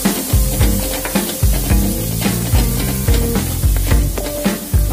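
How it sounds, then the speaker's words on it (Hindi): Kashmiri red chili powder fries in oil over a medium flame, a soft sizzle beneath rhythmic, repeated scraping strokes of a spoon against the pan. "थोड़ा सा फ्राई करेंगे"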